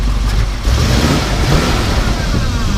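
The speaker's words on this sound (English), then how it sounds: "Go ahead and rev it up a little bit." A 1975 Ford F250 Camper Special pickup's engine running on a 2-barrel carb, revved lightly so its steady mid-range drone rises and holds, close and continuous with no talk over it.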